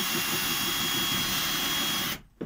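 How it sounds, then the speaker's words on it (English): A handheld electric drill grinds steadily into metal on an RC vehicle tray, a loud continuous whine that cuts off abruptly near the end. "trying to get the drill on a better drilling angle"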